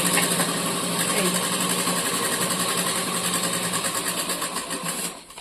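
A sewing machine stitches a bag made from a 25 kg rice sack with a fast, loud mechanical rattle close by, running steadily before it cuts off at the end.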